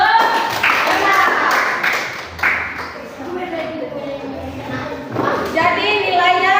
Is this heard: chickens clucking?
no